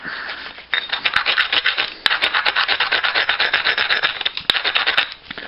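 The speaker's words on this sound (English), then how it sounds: "Go ahead and grind that." A stone edge, likely a cooked stone, being ground, making a loud, continuous close-up scraping rasp in steady rhythmic strokes, with a brief pause near the start and a few sharp ticks along the way.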